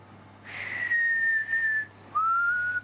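A child whistles two sustained notes nearby in a home kitchen while making a pear tart. The first note glides slowly downward, and after a short pause the second rises gently. The whistling is fairly faint over quiet room hiss.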